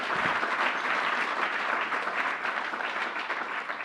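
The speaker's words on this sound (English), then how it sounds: "Let's give Eric a round of applause." An audience applauds Eric, sustained dense clapping from many hands, steady and even throughout, with no speech over it.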